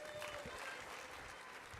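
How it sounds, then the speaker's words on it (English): An audience at a startup tech conference applauds founders and judges, a steady wash of clapping from a large crowd heard at a moderate distance. "let's have one last round of applause for all our founders and for our awesome"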